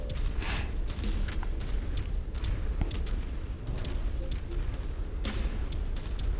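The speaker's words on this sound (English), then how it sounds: "I do believe it's the large laser that's doing that." Large laser weapon firing in MechWarrior 5 combat, with repeated sharp bursts and booms over a continuous rumble of battle noise.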